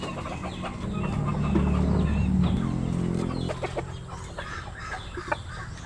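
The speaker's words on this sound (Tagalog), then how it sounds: "Ayan yung mga manok namin dito sa itaas." Free-ranging farm chickens cluck steadily nearby, with a loud low fowl call swelling in the middle and scattered sharp clucks toward the end.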